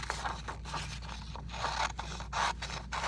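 Scissors snip and slide through a paper 1,000 chart in steady, repeated cuts, a close, crisp shearing rasp with brief pauses between strokes.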